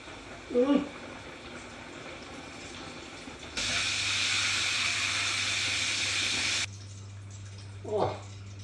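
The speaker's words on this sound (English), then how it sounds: "Let's get frying." Chicken fried steak drops into oil heated to 375 Fahrenheit and sets off a loud, steady sizzle that holds for about three seconds, then cuts out, with brief bursts of talk before and after it.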